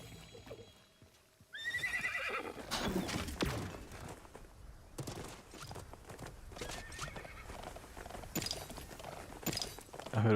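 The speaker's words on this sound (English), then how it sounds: "I heard a horse behind us." A video game horse whinnies, then hooves clip-clop in bursts over a quiet background, with scattered clatter and movement sounds in between.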